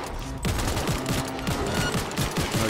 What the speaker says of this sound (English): Let's go ahead and shoot these with these turrets